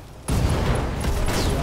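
Mech weapons open fire in the BattleTech video game. A sudden loud barrage starts and carries on as dense, continuous rumbling fire with sharp repeated cracks on top, and no voices are heard.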